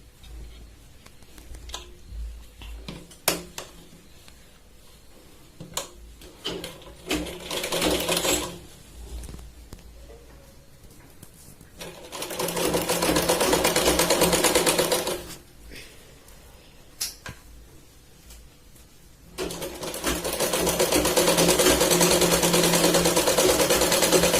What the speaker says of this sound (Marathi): खाली कडेने शिलाई लावायची आणि आजच्या साईडला हिला फोल्ड करायची.